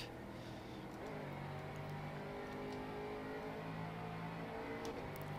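F3 race car engines in rFactor 2 on the classic Hockenheim 1966–69 layout, a steady, moderately faint droning whine of engines at speed, alone without talk.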